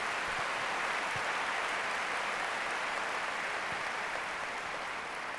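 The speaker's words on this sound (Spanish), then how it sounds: "Un aplauso fuerte para despedir" Audience applause fills a large hall after an on-stage conversation with Carlos Slim, a steady dense wash of clapping at moderate distance with no voices over it.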